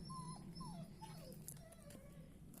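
Stray dogs from a homeless pack close to a car at night whimper and let out thin, high yips in a rising-and-falling series. The near but soft cries come over a low background hum.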